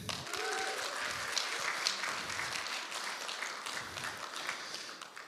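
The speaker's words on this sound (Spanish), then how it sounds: "Le damos un aplauso a Kevin." An audience applauds for Kevin at a church talk, a fairly faint, sustained patter of many hands clapping together with a little background chatter.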